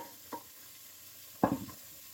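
Broccoli stems drop into a sizzling pan of browned onions and vegetables for a wild turkey stew, a couple of short clattering stirs over a faint frying hiss, with no talk.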